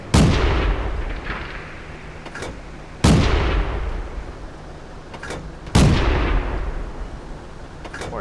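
Three heavy tank cannon shots in Panzer B2 gameplay, each a loud sharp boom with a long rumbling decay, spaced about three seconds apart, with faint game background between blasts.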